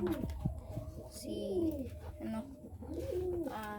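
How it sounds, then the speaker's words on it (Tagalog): Pigeons coo repeatedly nearby, soft throaty rolling calls overlapping one another, with faint background noise. "yung ibang ibon natin"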